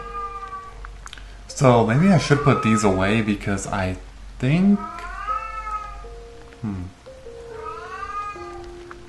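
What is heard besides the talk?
pet cat meowing in the background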